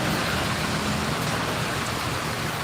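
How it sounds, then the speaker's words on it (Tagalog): Steady afternoon rain falls in Quezon, a dense, even hiss of drops that fills the whole moment without breaks or voices. "Tuwing hapon ulan sa Kamsor."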